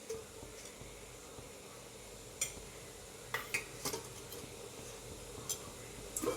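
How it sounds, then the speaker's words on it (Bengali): A ceramic bowl clinks as it is set into a perforated steaming plate for semolina pitha, with several light, sharp metallic and ceramic taps scattered over a low background hiss, no voices. "দেখো এই দেখো বাটি এইভাবে একটা জালিদার থালের মধ্যে এইভাবে বসিয়ে দিব"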